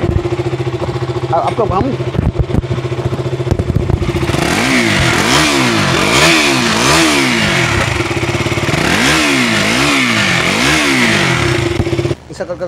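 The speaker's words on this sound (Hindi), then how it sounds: "देखिए बाइक स्टार्ट हो गया" A DKUE 200cc motorcycle engine runs close by and is revved repeatedly in rising and falling surges, with a brief voice speaking near the start.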